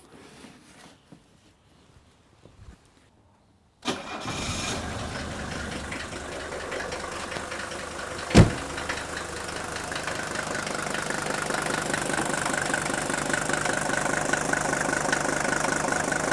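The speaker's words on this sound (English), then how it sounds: "it will be interesting as I fire up the engine" After a few seconds of near quiet, an old diesel engine cranks and catches with a loud burst after a fuel system service, then settles into a steady, knocking idle that continues.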